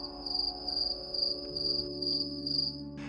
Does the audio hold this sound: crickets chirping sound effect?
yes